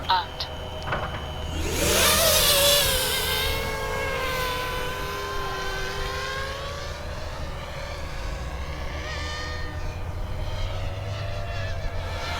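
An FPV drone flies outdoors in snow and rain, its propellers giving a loud, steady whine with shifting pitch that rises sharply, then holds and sways as it moves.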